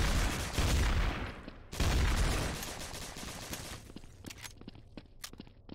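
Loud bursts of automatic gunfire in Garry's Mod Trouble in Terrorist Town come in two heavy volleys, then give way to quieter scattered clicks and taps.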